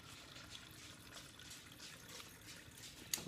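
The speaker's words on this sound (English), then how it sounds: "first we'll put the water in there" Water pours into a container in a steady, faint trickle with soft splashing, ending in a brief clink near the end.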